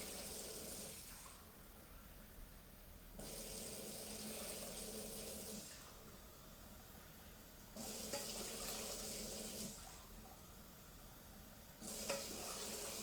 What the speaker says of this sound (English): Now we're going to add in 4 cups of water.